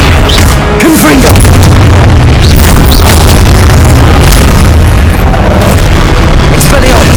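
A Confringo fire spell explodes in the video game Hogwarts Legacy, with loud booming blasts and crackling bursts over a constant, dense battle din of effects and music.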